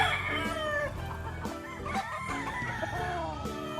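Roosters crow and hens cluck at a backyard gamefowl breeder's yard, several birds calling over one another, close and continuous.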